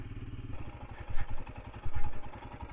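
A Royal Enfield Himalayan motorcycle engine runs close by with a steady, throbbing pulse and a mechanical clatter, swelling louder twice as the throttle opens.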